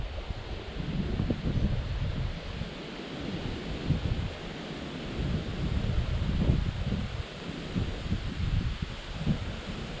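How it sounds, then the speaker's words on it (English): Strong sustained wind at Long Lake, gusting to 30, buffets the microphone with low, rumbling roars that swell and ease in repeated gusts, loud and close, with no voice. "this wind is not dying down at all"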